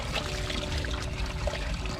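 Water runs from a newly fixed household faucet in a steady, broadband splashing pour that continues unbroken, close and moderately loud, with no talk over it.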